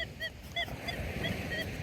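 A metal detector at the beach gives short, repeated chirping beeps in an irregular rhythm, heard over a steady wash of surf and wind.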